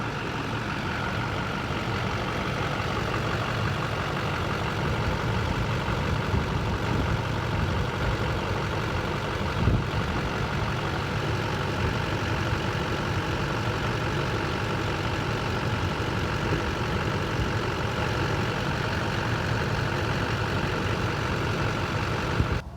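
A Chevy engine idles steadily with a loud, continuous low rumble, recorded up close beneath the vehicle near the hydraulic power steering pump, with no talking.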